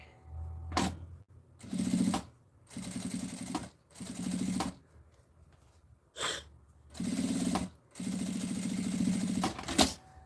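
A sewing machine stitches fabric lining for a small zippered bag in repeated bursts, each a rapid mechanical whirring run of a second or so separated by short quiet pauses.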